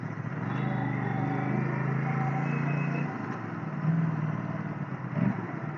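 A motorbike rolls into a shopping mall car park with a steady, close engine hum and a few brief surges near the end, while a voice speaks faintly.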